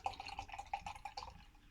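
Vocation Brewery Pride and Joy pale ale pours from a 330ml can into a glass, a soft trickling, dripping stream of liquid running steadily and close up for under two seconds.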